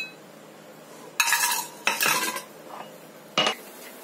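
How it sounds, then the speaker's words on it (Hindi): A metal spoon scrapes and clinks across a steel plate as ghee is spread over it, in a few short bursts with quiet pauses between, close up and with no voices. "इस बीच लगा लेते हैं थाली पर घी जिसमें हमें इसको सेट करना है"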